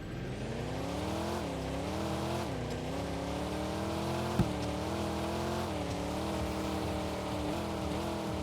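An Audi RSQ8 SUV in the Roblox game Vehicle Legends accelerates hard, its engine note climbing through repeated gear shifts with brief dips between rising pulls, loud and close throughout.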